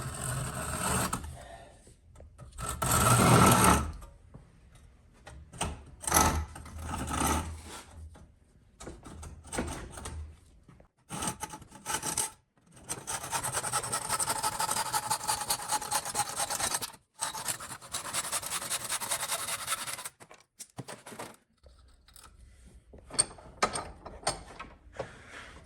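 A hand saw cuts through a wooden axe handle just above the head mark, giving rough rasping strokes in uneven bursts, with a long steady stretch of sawing in the middle and quieter pauses between runs.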